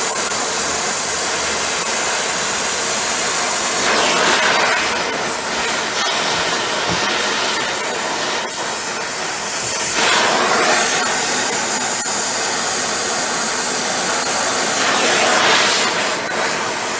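A rivet is heated in a forge, giving a loud, continuous roaring hiss of blown air and fire that swells and eases slightly over its length, with no talking.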